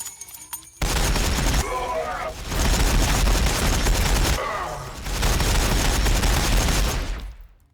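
A dense, loud barrage of gunfire in a Warhammer 40,000 video game matchup between Orks and Blood Angels rattles in two sustained volleys, with brief bursts of chatter between them.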